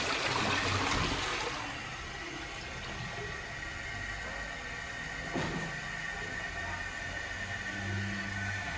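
A just-repaired toilet cistern is flushed, a loud rushing gush of water up close that eases into a steady softer flow and trickle as the tank drains and refills.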